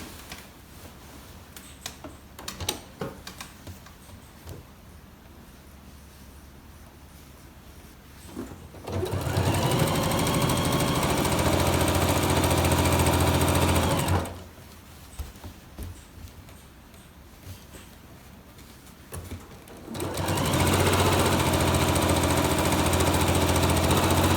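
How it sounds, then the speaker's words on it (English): A sewing machine stitches down binding on a big block quilt, running loudly in two long bursts of steady motor whir with quieter handling and light clicks in the pauses. "So now I'm going to sew that down."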